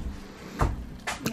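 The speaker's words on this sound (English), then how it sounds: "is the door actually shuts all the way. And seals." A bedroom door in a shipping container home swings shut and seals, giving a soft muffled thud followed by a couple of lighter knocks, quiet and close in an otherwise still room.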